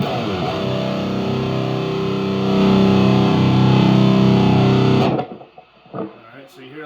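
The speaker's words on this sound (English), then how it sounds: "you hear a lot more of that white noise because you're utilizing all the preamp tubes" A heavily distorted electric guitar sustains a buzzing chord through an EVH 5150 Stealth tube amplifier, with a hiss of white noise from the preamp tubes, then cuts off abruptly, leaving faint noise.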